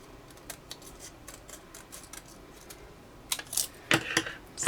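Scissors snip through a paper mini cupcake liner, a faint patter of small cuts giving way to a few louder, crisper snips near the end, close by with no talking.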